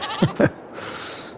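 Two short sheep bleats come close together from livestock in Farming Simulator 22, followed by a faint, thin tone that trails off.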